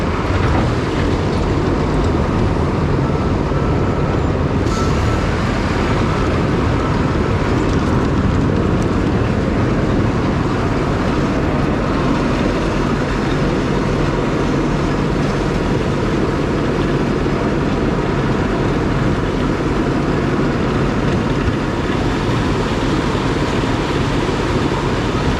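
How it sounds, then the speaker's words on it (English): A skid loader spoon-feeds loose material into a conveyor at a work site, its diesel engine a steady, loud, close rumble with grinding and clatter that runs without a break and no talking. "taking the skid loader and just kind of spoon feeding this conveyor"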